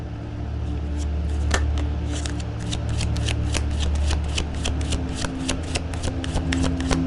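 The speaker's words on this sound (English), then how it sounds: "Let us draw 2 more cards for your outcome." Tarot cards are shuffled and drawn from a deck, a close, continuous run of crisp riffling flicks and card snaps with soft handling noise, no talking over it.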